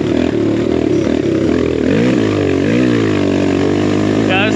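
BBR-equipped Kawasaki KLX170RF dirt bike with a big-bore camshaft, ridden over whoops: a loud, close, buzzing single-cylinder engine holds steady, then its pitch rises and dips as the throttle opens and closes.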